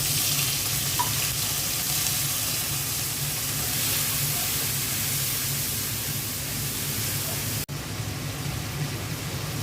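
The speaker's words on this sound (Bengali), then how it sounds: "অল্প করে পানি দিয়ে দিচ্ছি।" Water hits frying ginger-garlic paste with turmeric, chili and cumin powder, producing a loud, steady broadband sizzling hiss that holds throughout, broken by one sharp click near the end.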